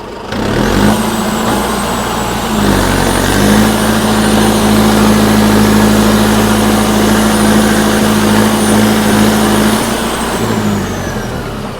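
Tractor engine running in third medium gear, a loud steady diesel drone with a strong low hum that shifts pitch briefly near the start, then holds constant and close for the whole stretch with no talking.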